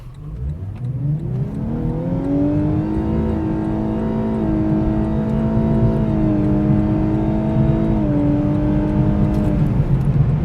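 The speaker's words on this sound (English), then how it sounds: "So I figured, you know what? Let's just floor it and see what 0 to 80 is like." A 2019 Lexus LC500h hybrid accelerating hard from a stop in comfort mode, a loud steady engine drone rising smoothly in pitch with a brief gear-change dip, close inside the cabin, no talk.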